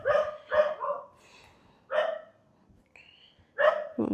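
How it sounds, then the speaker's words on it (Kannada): Dogs bark in short sharp bursts, a couple of quick barks followed by single yaps spaced a second or two apart, moderately loud with faint background between them. "ನಾಯಿಗಳದ್ದು ಸ್ವಲ್ಪ ಡಿಸ್ಟರ್ಬ್ ಇದ್ದರೆ ಅದನ್ನ ಇಗ್ನೋರ್ ಮಾಡಿಬಿಡಿ"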